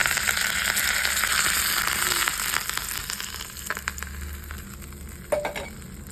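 Mustard seeds, cumin, urad dal and curry leaves tempered in hot oil for a peanut chutney, producing a loud, close sizzle with scattered pops and crackles that gradually settles into a softer hiss, with no talking.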